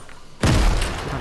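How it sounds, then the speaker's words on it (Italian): A single grenade explodes in Fortnite Chapter 2 Season 6, hitting with a sudden loud boom and then a long rumbling, crackling decay that fills the rest of the moment. "Ah, le granate."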